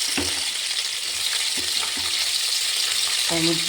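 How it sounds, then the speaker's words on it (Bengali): Bitter gourd pieces frying in hot oil in a wok, a loud, close, steady sizzle with occasional scrapes and clinks of a stirring utensil. "যখন করলাটা ভাজা হচ্ছে"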